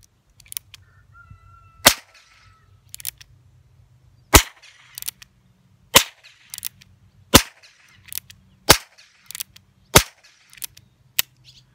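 .22 Short rounds fire from a Heritage Rough Rider revolver as about nine sharp, loud cracks spaced irregularly a second or two apart, close by, with faint handling noise between shots.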